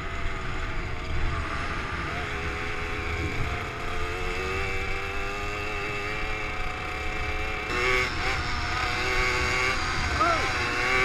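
A Garelli Gulp moped engine drones steadily while riding along muddy ground, a continuous buzzing whine with wind rush and slight pitch shifts near the end.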